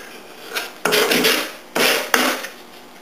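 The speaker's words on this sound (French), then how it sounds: "On passe toujours un petit coup de ponçage circulaire" Sandpaper rubbing in circles over a wooden planter stand makes two close, loud raspy strokes with quieter scuffs around them.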